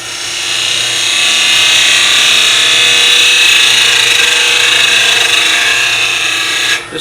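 Wood turning gouge cutting a spinning piece on a lathe, giving a steady, loud, continuous hissing shave that holds for several seconds and then stops abruptly.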